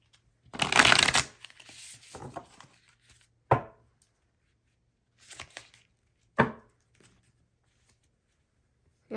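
Tarot cards shuffled by hand, several separate bursts of riffling and slapping, close and crisp against near silence, with the first burst longest and loudest.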